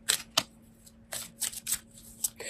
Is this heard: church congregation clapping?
no